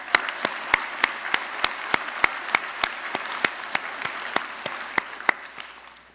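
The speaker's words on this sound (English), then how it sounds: "Let's give yourselves a round of applause." Graduates at a college convocation give themselves a round of applause. Soft, wide crowd clapping runs under a few sharp, evenly spaced claps that stand out close by, and the sound fades slightly near the end.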